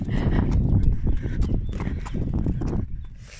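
Hooves clip-clop at a walking pace as horses and riders pass on an outdoor ride, a close, irregular run of thuds and clops that fades toward the end.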